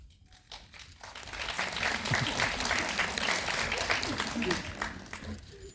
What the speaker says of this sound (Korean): 따뜻한 박수 감사합니다